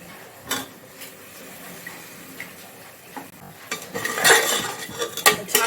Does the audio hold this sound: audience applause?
no